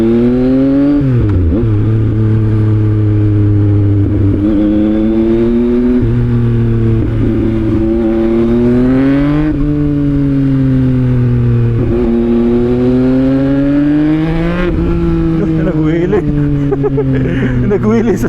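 A Yamaha MT-09 motorcycle accelerates hard through the gears into a second-gear wheelie, its engine loud and close with rising revs and quick shift breaks, and a voice talks over it.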